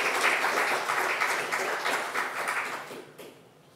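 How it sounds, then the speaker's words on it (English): Audience applause closing a round of conference presentations on urban food futures, a dense steady wash of clapping from a room of listeners that fades away over the last half second. "we'll take the opportunity of a joint round of applause for the presentation so far today"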